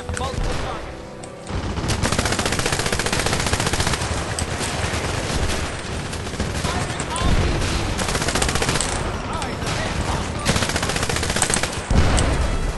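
Sustained automatic gunfire from a player shooting in the video game 007 Legends, Goldfinger's Fort Knox level, dense continuous bursts loud and close for most of the stretch, with a brief quieter lull near the start.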